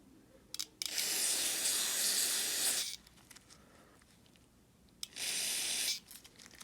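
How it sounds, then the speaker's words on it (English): Carburetor jet spray is blasted from an aerosol can onto the main jet of a snow blower that won't start, in two close, loud hissing bursts, a long one of about two seconds and a shorter one, with quiet handling noises between. "So I'm just going to spray some jet spray on this one."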